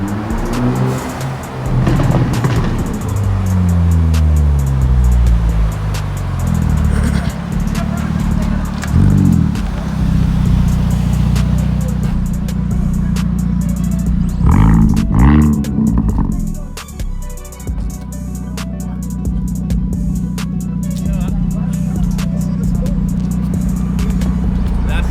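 Hyundai Elantra N fitted with a new aftermarket exhaust, revving loudly and repeatedly close by, with rising and falling engine sweeps over a deep steady idle drone for most of the clip.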